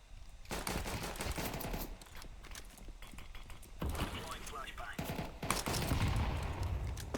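Dense bursts of rapid gunfire from the video game CS2, sustained and loud, with voices talking over the shooting.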